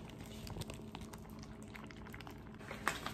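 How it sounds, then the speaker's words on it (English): An MRE beef meal heats in its pouch, giving a quiet, continuous bubbling and fizzing that stays faint and close throughout. "You can hear it boiling."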